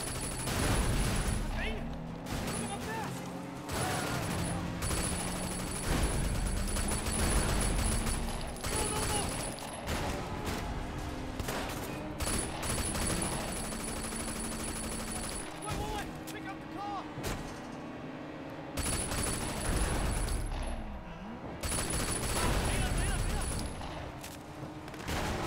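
Gunfire in the video game Sleeping Dogs: Definitive Edition, dense rapid volleys of shots and booms running almost continuously with someone talking over the action.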